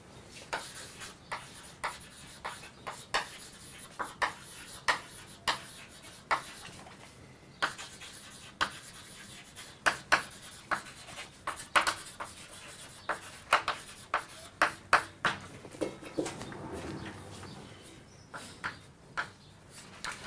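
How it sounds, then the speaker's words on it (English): Chalk or marker strokes on a board during a physics lecture on gravity, a long series of quick scratchy taps and short rubs in irregular rhythm, close and moderate, with no talking. "Let me just write that."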